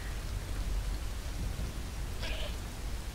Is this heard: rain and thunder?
yes